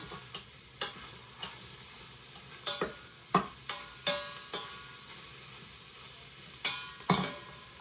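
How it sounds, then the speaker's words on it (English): A spoon stirs food cooking in a pot for hot and sour soup, giving a dozen or so sharp scraping knocks at an uneven pace over a soft sizzle, close and clear with no talking. "I'm just going to keep stirring them."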